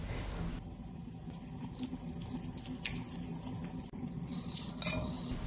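Yogurt, mayonnaise, garlic powder and honey are stirred in a bowl with a spoon, giving soft wet squishing and light clinks of the spoon against the bowl, steady and close.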